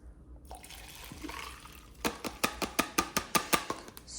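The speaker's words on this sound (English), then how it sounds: "And then I'm gonna pour my matcha." Matcha poured into a cup of cashew milk: a soft liquid trickle at first, then a regular series of about nine sharp, close drips or clinks against the cup.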